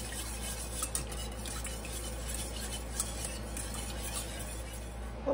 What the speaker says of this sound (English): we're going to turn that on medium-low heat and whisk it together